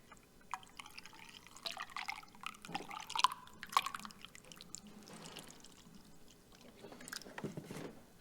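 Water is poured into a car's heater core during a flush, giving quiet intermittent trickles, splashes and drips in uneven bursts, close and faint.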